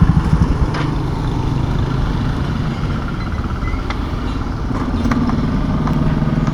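A motorcycle engine runs at a steady low rumble near the microphone as the bike pulls in to park outside a burger shop, the droning sound continuous and fairly loud throughout.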